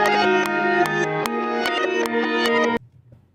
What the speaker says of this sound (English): what I did was I reversed the whole sample.